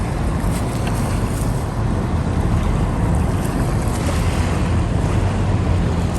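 Steady wash of surf as the tide comes in on the Thames foreshore in London, loud and continuous with rough wind buffeting the microphone throughout and no pause.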